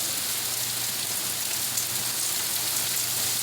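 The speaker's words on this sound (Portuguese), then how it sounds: "Muita chuva, com vento ainda." Heavy rain with wind in the interior of São Paulo state, Brazil, a dense, steady hiss of downpour drumming on surfaces, loud and continuous throughout.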